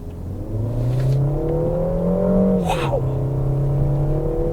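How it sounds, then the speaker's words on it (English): A Peugeot 3008 SUV in sport mode accelerates hard, its engine note rising steadily in pitch and volume with a brief shift, heard from inside the cabin. "the engine note of the 3008 in sport mode is absolutely delicious"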